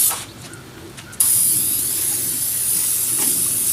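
Pressure spray hosing down the cold engine bay of a Jeep Wrangler JKU, a loud steady hiss starting abruptly after a second of quieter ambience and holding on without a break.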